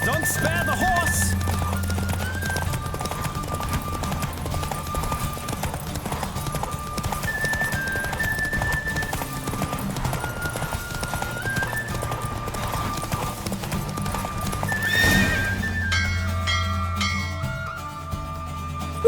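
A horse galloping at speed in The Witcher 3, with steady rapid hoofbeats throughout, a neigh, game music underneath and characters talking over the race.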